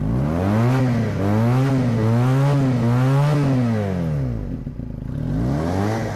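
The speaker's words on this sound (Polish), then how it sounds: "Prosimy o dodanie gazu." A Junak M15 125cc motorcycle engine revs up and down repeatedly, its pitch rising and falling in loud waves, close by, with no talking.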